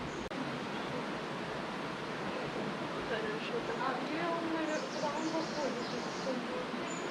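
River water pouring into the sea at the mouth of a canyon near Sochi, a steady rushing wash of flowing water and surf, with faint voices and birdlike chirps over it.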